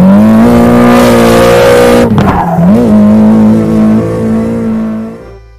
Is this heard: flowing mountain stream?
no